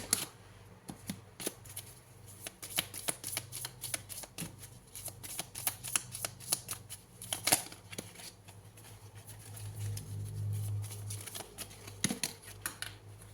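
Tarot cards are shuffled and handled up close, with rapid riffling flutters, then softer slides and taps as cards are drawn. No one speaks.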